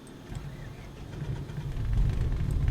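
Aircraft engine in Microsoft Flight Simulator 2020, a low droning rumble that steadily builds in loudness as the throttle comes up, running continuously without talk over it.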